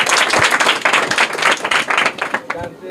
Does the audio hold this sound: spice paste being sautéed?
no